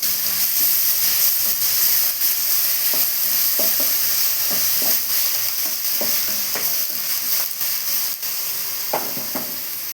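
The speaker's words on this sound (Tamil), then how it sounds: "நல்லா வதக்கி விட்டுக்கலாம் இதில் பச்சை மிளகாய் சீரகம் பூண்டு" Green chili, cumin and garlic sauté in a pan for a mixed vegetable avial curry, giving a steady hissing sizzle broken by scattered stirring clicks and scrapes, with no voices.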